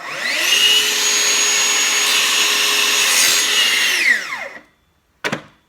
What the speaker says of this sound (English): You want to cut into your splinter guard exactly the same way you're going to cut into your splinter guard on your guard rail.